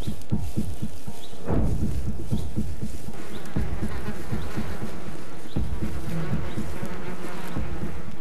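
Wild bees buzz loudly and close, with a dense swarm hum broken by individual insects droning past at varying pitch, and a few soft thumps beneath.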